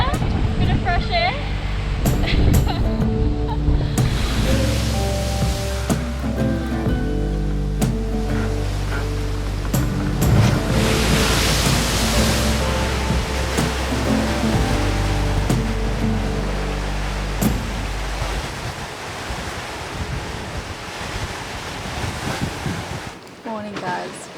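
Wind-driven ocean waves surge and break around a sailing boat at sea, with constant wind roar and buffeting on the microphone. Voices talk intermittently over the rushing water throughout.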